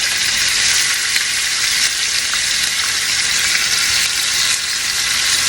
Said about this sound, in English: Work in batches and put your oxtails right down in there. Let them sear.